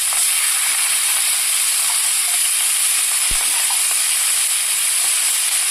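Chopped onion hits hot oil already holding cumin seeds and whole garam masala, producing a loud, even, steam-like hiss that holds steady from start to finish, with one faint knock midway.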